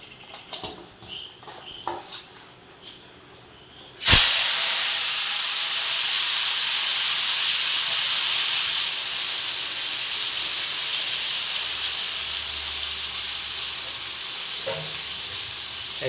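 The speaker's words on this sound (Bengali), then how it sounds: "চিংড়ি মাছের ভাজাভাজি হচ্ছে এখন" Prawns fry in a pan with a sudden loud burst of hissing sizzle that settles into a steady, close spitting roar, after a few quieter clicks and knocks.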